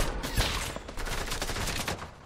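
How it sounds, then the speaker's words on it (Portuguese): Gunfire in a Fortnite match, a dense stream of overlapping shots and bursts running steadily throughout at a fairly close, loud level, with no talk over it. "quem tá atirando aqui"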